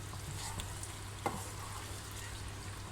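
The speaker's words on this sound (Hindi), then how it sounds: "अब इसको हम मिक्स कर लेंगे ताकि जो तड़के का टेस्ट है वो तमाम दाल में अच्छी तरह मिक्स हो जाए" Chana dal with a hot tempering is stirred with a spoon in the pot, a soft steady sizzle running throughout with one quick clink of the spoon, and no one speaks.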